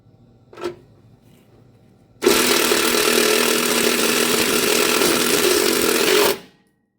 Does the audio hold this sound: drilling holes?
yes